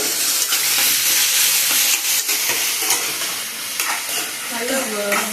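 Ingredients with salt and turmeric stir and sizzle steadily in a hot pan for a potato kara kuzhambu, a continuous close frying hiss broken by scraping stirs, with no talking.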